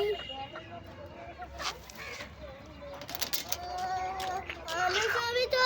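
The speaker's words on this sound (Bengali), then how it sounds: "আমাদের কাছে অনেকগুলো মুরগি" A flock of chickens gives repeated clucks and squawks at close range, overlapping and growing busier toward the end, over low background noise.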